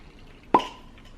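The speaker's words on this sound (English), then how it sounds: "then we're gonna take our bottle of test strips, open the bottle." A bottle of home INR test strips is opened: a single short pop or plop near the middle, loud against a quiet background, with a brief fading tail.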